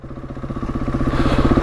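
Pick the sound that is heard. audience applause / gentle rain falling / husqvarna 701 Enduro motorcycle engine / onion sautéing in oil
husqvarna 701 Enduro motorcycle engine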